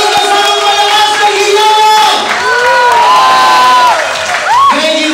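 Wedding crowd cheering loudly, a dense wall of shouts and whoops with rising individual voices, sustained and close throughout.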